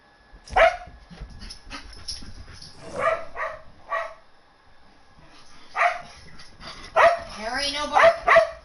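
A dog barks in Red Dead Redemption 2 with several sharp barks and yips in bursts, the loudest near the end, mixed with a voice talking over the game.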